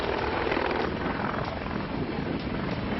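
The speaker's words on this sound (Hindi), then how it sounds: "ये है इंडियन एयरफोर्स का सबसे हाईटेक हेलीकॉप्टर अपाचे, जिसे उड़ता टैंक के नाम से भी जाना जाता है" An Indian Air Force Apache attack helicopter flies close overhead, its rotor and engine making a loud, dense, continuous roar with a steady beating texture.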